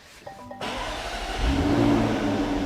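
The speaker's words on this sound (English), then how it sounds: "And I'll start the car up" A 2021 Jaguar F-Type V8 engine cranks briefly, catches and settles into a deep, rumbling idle that swells slightly louder, close and steady with no talking.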